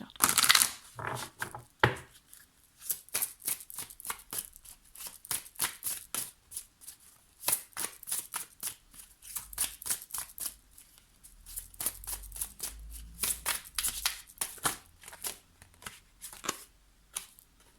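Tarot cards being shuffled by hand for a reading, a long run of quick riffling and soft slapping bursts close to the microphone, with brief pauses between shuffles.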